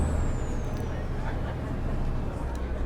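A heavy diesel bus engine in the game OMSI 2 drones steadily throughout, with a deep low rumble and a faint high whine gliding slowly downward.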